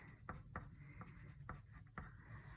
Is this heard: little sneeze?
no